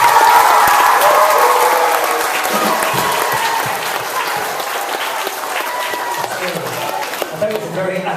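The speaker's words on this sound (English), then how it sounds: "So give him a big round of applause." Sustained applause from an audience after a traditional Irish music band performance, dense and loud at first, then easing slightly but continuing steadily throughout.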